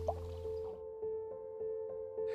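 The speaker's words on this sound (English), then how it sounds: "dripping water continues to leave behind calcite" Water drips inside Blanchard Springs Caverns, a living cave: a series of soft, evenly spaced drips about half a second apart sounds over a faint steady hum in the quiet underground space.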